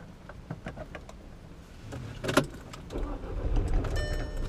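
A car engine cranking and starting after a series of clicks and clunks, then settling into a low idle rumble.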